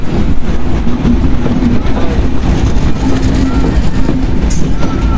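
A train at Alamdanga station in Bangladesh, a loud steady rumble of rail cars and engine noise filling the platform, with busy crowd noise and voices throughout.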